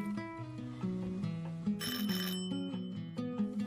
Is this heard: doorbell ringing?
yes